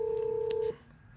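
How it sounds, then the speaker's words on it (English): An incoming phone call sounds through the Bluetooth stereo of a 1972 Chevy El Camino as a steady electronic tone that cuts off abruptly, followed by quiet cabin hiss. "Phone call coming in. Bluetooth works"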